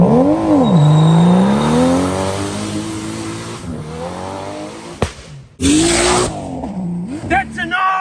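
RB30 straight-six drift car at a drift event revving loudly and close, pitch sweeping up and down through rising and falling engine harmonics, with a sharp burst of roar and brief tire noise near the end.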